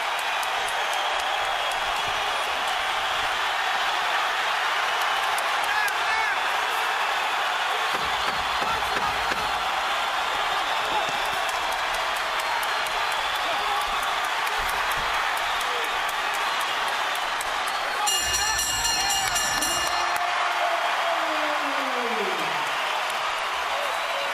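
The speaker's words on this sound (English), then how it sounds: "Crowd rises with 30 seconds to go, trying to cheer the hero on." A boxing arena crowd at the Cotto vs. S. Ali fight cheers through the final seconds, a steady sustained roar that holds at the same level throughout, with a brief electronic tone sweeping downward near the end.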